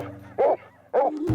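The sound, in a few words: hunting dogs barking while chasing coyotes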